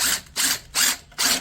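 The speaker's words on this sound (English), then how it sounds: "So I'm going to go ahead and hit it with my drill just to loosen it up" A power drill loosens the battery hold-down on a 2010 Mini Cooper in four short whirring bursts separated by brief pauses, close and fairly loud.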